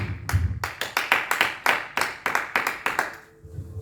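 A church congregation claps in a quick, even rhythm, with about a dozen sharp, loud claps close together before they stop.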